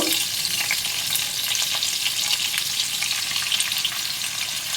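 A dense, continuous sizzle of ingredients frying in a pan for pasta, loud and close, with faint stirring scrapes running through it.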